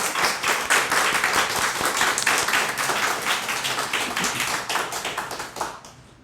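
A church congregation at a Sunday worship service claps steadily and loudly for several seconds after a children's praise song, then the clapping fades out at the end.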